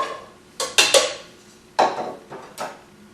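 Edamame, sliced ginger, garlic and green onions tipped into a pan, giving a handful of sharp clattering knocks and scrapes of utensil against metal, spaced irregularly over a quiet background.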